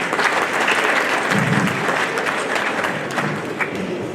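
An awards-ceremony crowd at the Cauris d'Or gala claps warmly and continuously, a full hall of steady applause with a brief low murmur partway through.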